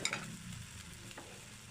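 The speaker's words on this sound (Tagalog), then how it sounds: "tapos lutuin lang muna natin ang patatas bago natin ilagay yung corned beef" Potatoes fry in a pan before corned beef is added, a steady soft sizzle with faint stirring scrapes, continuous and close with no talk.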